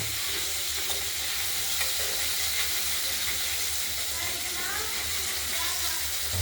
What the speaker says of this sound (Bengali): একটু ভাজা করে নেব